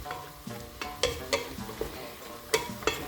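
Chicken browning in oil in a pot, with a steady low sizzle under several sharp utensil scrapes and clinks as pieces are turned, close and moderately loud, no talking.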